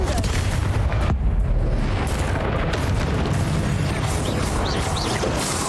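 Explosion of a Confringo blasting spell in the Hogwarts Legacy video game: a loud, dense booming rumble that stays heavy throughout, with the initial burst trailing into sustained blast noise.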